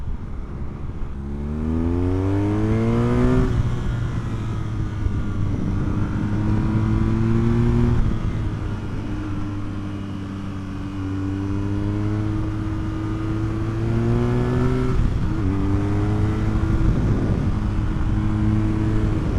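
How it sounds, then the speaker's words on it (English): A 2023 BMW R nineT 100 Years Edition motorcycle engine revving through the gears on a road ride, with repeated rising pitch sweeps as it accelerates and shifts, loud and close with a steady underlying drone and no talking. "I do love the character of this engine though as a road bike."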